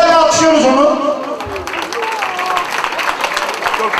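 Guests in a wedding hall applaud the bride and groom, with a crowd's dense clapping swelling in after a few raised voices and continuing steadily.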